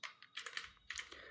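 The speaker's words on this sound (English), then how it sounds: "So I'm typing" Quick light clicks of keys on a computer keyboard in two short bursts, close and soft, with no voices.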